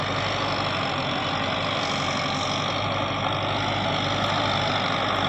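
A tractor-powered borewell drilling machine runs in a dense, steady engine roar with a low rumbling drone, loud and unbroken throughout.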